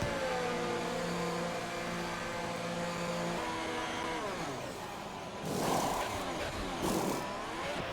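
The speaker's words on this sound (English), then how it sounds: "Let's see the pit stop." Engine of a Formula 1 car in F1 2021 during a pit stop, a steady droning tone that changes pitch as it revs, broken by louder whooshing bursts near the end.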